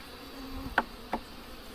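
Honey bees buzz faintly around an open hive in a weak colony, a low steady background hum with two brief closer buzzes or taps standing out.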